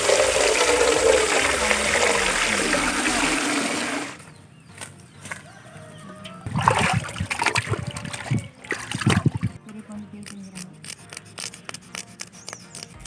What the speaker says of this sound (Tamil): நான் போயிட்டு மீனை கழுவிட்டு வந்துடுறேன்